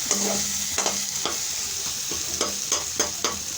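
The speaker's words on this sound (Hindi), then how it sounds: "देखिए अच्छे से भूनेंगे इसको" Masala stir-fried in oil for shakshuka, a close steady sizzle broken by repeated rhythmic spatula scrapes against the pan, with no talk.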